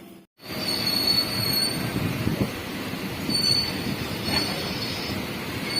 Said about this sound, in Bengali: তো এখন ট্রেন ছেড়েছে